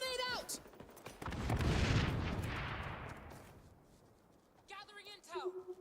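A grenade goes off in the video game XDefiant with a heavy, rumbling blast that swells and then fades over a few seconds. Brief voices come before and after it.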